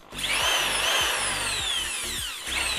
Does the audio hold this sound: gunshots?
no